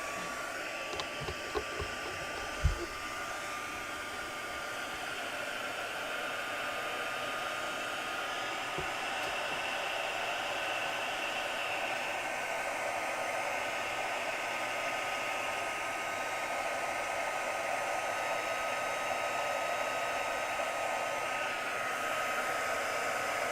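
A hair dryer blows steadily and close up for the whole stretch, a continuous airy whoosh drying paint on a coloring page. A few faint knocks and handling bumps come near the start.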